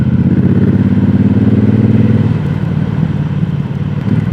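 A 2026 Triumph Bobber 1200 motorcycle is being ridden, its engine a loud, steady low rumble that stays close throughout with slight shifts in pitch.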